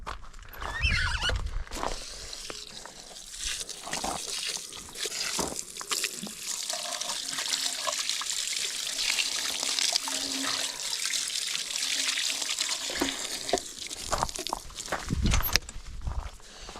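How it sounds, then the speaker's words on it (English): Water spraying over parts from a 1983 Honda Civic 1.5L EM1 engine being washed during a rebuild, a steady close hiss of spray with clatter and footsteps around it throughout. "Spray along with the water."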